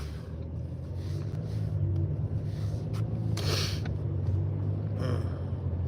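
A steady, low engine-and-road rumble fills the cabin of a car driving along a road, continuous and fairly loud with no talk.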